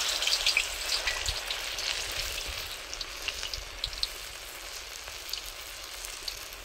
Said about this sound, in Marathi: आता आपण यात तळून घेऊ. वड्या सोडून घ्यायच्या.